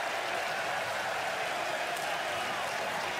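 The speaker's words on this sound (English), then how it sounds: "A little more aggressive cheer than would be expected for a foul on Mike Samuels." Fans in an arena cheer after a foul is called at a college basketball game between Eastern Michigan and Michigan State, a steady, broad crowd roar with applause that holds throughout, heard from a distance.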